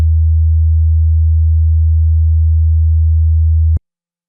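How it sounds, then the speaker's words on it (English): A pure 80 Hz sine test tone in the low bass, a loud, steady, unwavering hum lasting almost four seconds before cutting off abruptly into silence. "but 80 Hz sounds like this."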